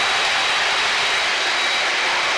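A Blue Angels jet roars as it maneuvers, a loud, dense, steady engine rush heard from inside the aircraft with no voices over it.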